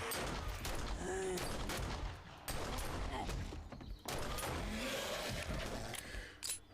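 Pistol gunfire in a video game, repeated sharp shots scattered over a dense, constant wash of game noise and music, fairly loud throughout.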